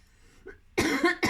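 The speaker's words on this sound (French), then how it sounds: "En plus, je tousse." A person coughs indoors: a faint throat sound, then two sharp, loud coughs close up in quick succession.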